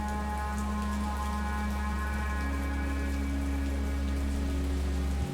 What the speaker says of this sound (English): This downpour wasn't expecting anyone here